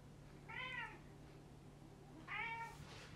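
Two distinct cat meows about two seconds apart, fairly close and clear, over a low steady hum with no talking.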